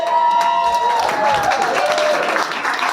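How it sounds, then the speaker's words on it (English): Wedding guests applaud the groom after his speech. A dense, even patter of clapping swells from the crowd, and a sustained tone runs underneath. "Round of applause for Andrew!"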